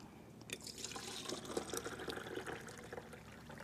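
Tomatoes are lifted out of a bowl of soaking water, giving soft splashes, drips and trickles close by that run on fairly evenly, with no talking.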